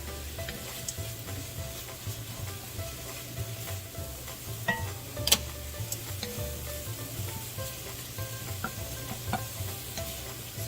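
Ground beef sizzles steadily in a pan as liquid cooks off, a constant frying hiss with occasional stirring scrapes and small clinks, no voices.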